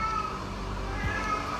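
A cat meows faintly, a short drawn-out call rising above a steady background hum.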